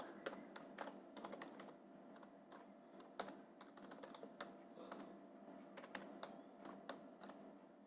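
Someone types steadily on a computer keyboard while building a web page, producing quick, irregular key clicks close up, with no talking.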